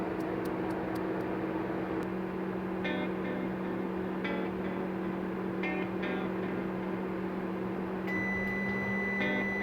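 A convection oven running while baking cheese-filled breadsticks, a steady low hum with fan noise throughout, with faint electronic beeps and tones over it.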